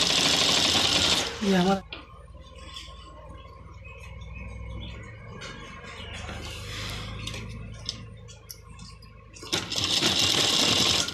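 A sewing machine stitches the hem of a gents' kurta in short bursts of fast mechanical whirring, close by, with someone speaking briefly between runs.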